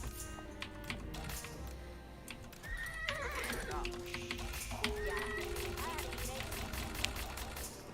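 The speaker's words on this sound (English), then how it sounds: "I want to rush out 4 horses." Horses neigh and whinny in an Age of Empires IV match amid clip-clopping hooves and busy game sounds, with two clear whinnies near the middle over steady battle and interface noise.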